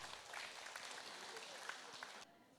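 Audience applause at a Gunsan Red Cross lifelong college 30th anniversary ceremony during an award presentation, a steady wash of clapping that cuts off abruptly near the end.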